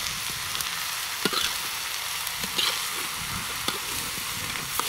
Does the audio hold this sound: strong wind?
no